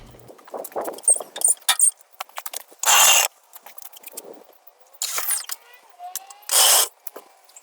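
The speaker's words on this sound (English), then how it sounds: "Not going to damage them with the rattle gun on its lowest setting." A rattle gun on its lowest setting hammers at wheel nuts in short loud bursts, separated by quieter clinks and metallic handling of parts.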